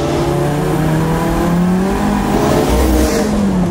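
Kimera EVO37 with supercharged and turbocharged engine accelerating hard, loud close engine note rising in pitch through successive gear pulls, with a brief dip between gears.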